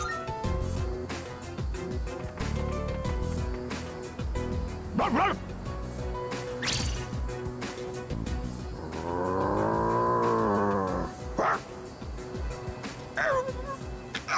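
In Persona 3 Reload, a dog growls and barks during a tense standoff with a stray. The barking is intermittent and mixed with a sustained snarling roar and game music, with other noises layered over it.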